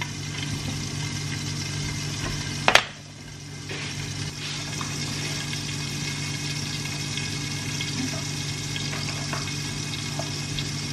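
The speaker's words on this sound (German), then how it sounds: "Der Rahmspinat köchelt." Vegan creamed spinach simmers in a pot in a home kitchen, giving a low, steady bubbling hiss with a hum in the background and one sharp clatter early on.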